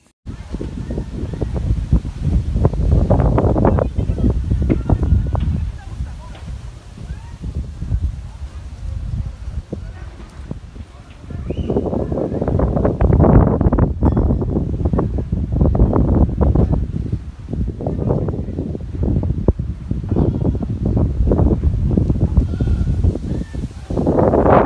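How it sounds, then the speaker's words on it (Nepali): Strong windstorm gusting outside in the dark early morning, heavy low rumbling buffets rising and falling in long surges with a brief lull mid-way, close to the microphone; no clear voices. "भर्खरै 2 मिनेट अगाडि चाहिँ हावाहुरी आइराछ।"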